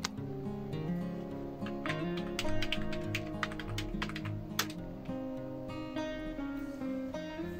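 Quick, irregular keystrokes on a computer keyboard enter Wi-Fi network details, close and clear over a faint background hum, with no talking.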